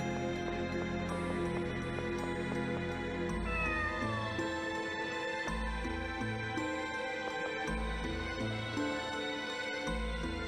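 A cat meows repeatedly in the Tales of Destiny video game, the cries sitting over steady background game music that plays throughout.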